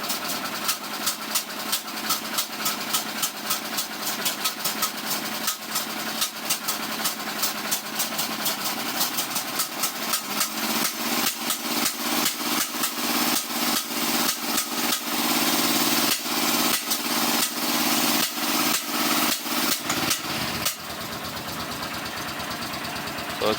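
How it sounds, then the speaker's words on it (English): Honda GL500 (CX500) motorcycle engine running with exhaust pops as the throttle is cracked: loud, continuous engine drone broken by rapid popping bursts that quicken, then settle back to a steadier idle near the end. "we're still getting this popping as I crack the throttle"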